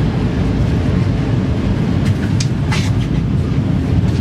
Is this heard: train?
yes